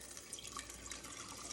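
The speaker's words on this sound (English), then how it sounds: "And then I add cold water to that" Cold water poured into an iced tea pitcher, a faint, steady trickling and splashing heard close up.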